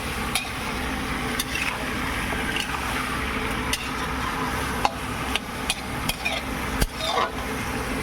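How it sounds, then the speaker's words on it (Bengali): Potato and pea vegetables, a large batch for about eight people, are stir-fried in a pan with a continuous low sizzle and scraping, punctuated by sharp, irregular clacks of a spatula against the pan; no voices. "এই যে সবজিটা কষাচ্ছি কষাচ্ছি অনেকক্ষণ ধরে"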